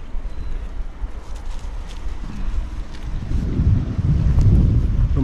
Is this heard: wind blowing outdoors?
yes